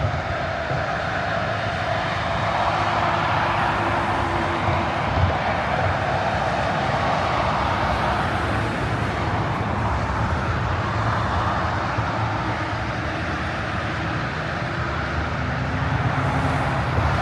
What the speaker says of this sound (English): A lot of semis come through this area.